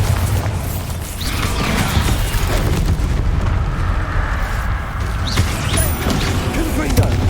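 Bombarda explosion spell in the Hogwarts Legacy game, a heavy rumbling blast that rolls on under continuous battle noise, with loud low booms throughout.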